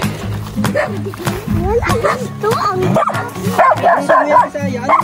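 Several dogs bark and yip close by at a hut on a mountain, with repeated overlapping barks and whimpers, while people talk over them throughout.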